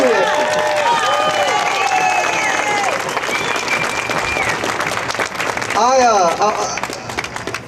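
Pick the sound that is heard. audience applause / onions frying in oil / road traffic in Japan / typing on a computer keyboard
audience applause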